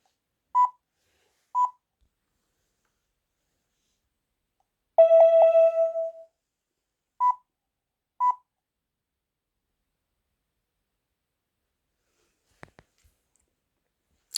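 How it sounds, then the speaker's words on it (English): A WiFi CCTV camera gives short electronic beeps during setup: two quick bleeps, a longer tonal chirp, then two more bleeps, with faint clicks near the end and no voices. "now it's making the bleeping sound"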